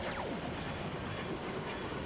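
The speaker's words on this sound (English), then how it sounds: "Looks like a train, and it's really a train going into us" An anime sea train rumbles steadily with a dense, continuous roar and clattering wheels, loud and sustained with no pause, like a train bearing down close by.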